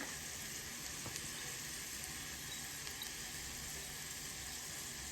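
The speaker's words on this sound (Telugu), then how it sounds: "బెండకాయ ఎంత షాలో ఫ్రై చాలా బాగా వచ్చింది" Okra (bendakaya) shallow-fries in oil in a pan, a faint, steady crackling sizzle with occasional small pops, continuous and without talk.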